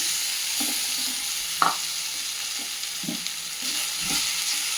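Poha upma frying in a pan on low heat, a steady soft sizzle with a few scraping stirs of a spoon against the pan, heard up close with no talking.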